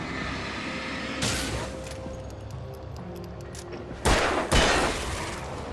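Gunfire in the video game Alan Wake, several sharp broadband shots with two loud close bursts near the end, over a steady background rumble, with no speech.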